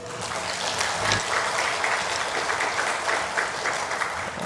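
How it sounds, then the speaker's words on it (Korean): Congregation applauding in a Korean church during a Sunday worship service, a steady, dense wash of many hands clapping together for a few seconds, loud and without speech. "박수 주시죠."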